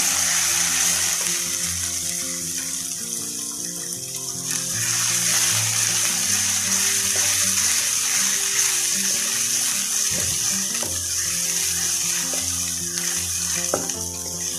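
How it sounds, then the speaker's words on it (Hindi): A large onion frying in a pan for ginger chicken karahi, giving a steady, close sizzling hiss that runs unbroken throughout. "बड़े साइज की प्याज है तो मैं अच्छी तरह फ्राई कर दूँगी।"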